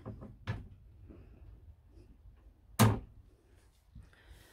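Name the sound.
kitchen cupboard door opening and shutting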